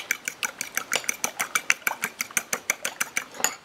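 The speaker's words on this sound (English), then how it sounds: "We're going to whisk our 2 eggs together." Two eggs are whisked quickly in a bowl for crescent roll dough, giving a fast, even run of close, sharp clicking strokes with no talk.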